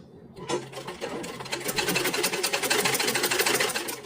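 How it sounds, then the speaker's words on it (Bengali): A sewing machine stitches a fabric latkan, a close, steady rapid whirring rattle that starts after a brief quiet moment and runs continuously to the end, with no talking. "এখন আস্তে করে সেলাই করে নিব ভিতরে সুতাটা রেখে।"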